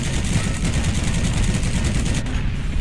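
Heavy, continuous gunfire rumbles in the video game Heroes and Generals as players shoot at a tank, a dense, booming, rattling barrage with little pause.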